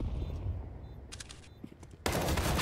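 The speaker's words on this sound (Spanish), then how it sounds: "Es un disparo complicado." Gunfire in a professional Counter-Strike match between mousesports and Astralis crackles in short bursts over a steady background of game and crowd noise, ending in a loud sustained burst.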